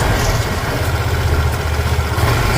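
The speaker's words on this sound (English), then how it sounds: "Let's listen the exhaust note." An Aprilia SXR 160 scooter engine idling close by with a steady low, throbbing exhaust rumble and slight fluctuations, no talking.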